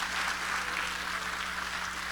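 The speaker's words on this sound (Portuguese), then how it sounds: "Dê um forte aplauso ao Senhor Jesus." Steady applause from a church congregation, a dense, continuous patter of clapping at moderate volume with no voices over it.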